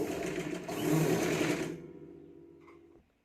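A sewing machine top-stitches the folded lining of a katori blouse, running in a fast steady whir that slows and winds down, then a few light mechanical clicks before stopping.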